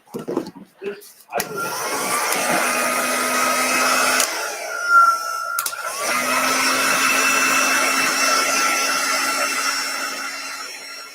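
A steady, loud whirring hair dryer runs for most of the clip after a few brief clunks and handling noises, with a short pause midway before it starts again.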